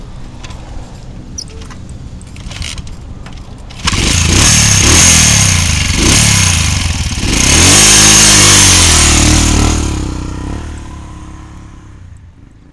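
A motorcycle engine starts up close and loud, then revs and accelerates away in rising and falling surges, with faint background sounds before it and no speech.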